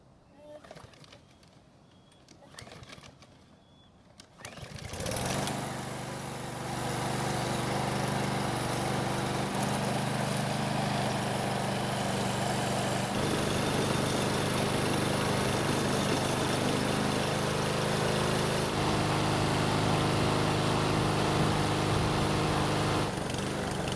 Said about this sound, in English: start the engine and let it run until it stops